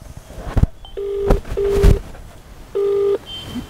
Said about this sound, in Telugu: ఫోన్ చేస్తున్నారండి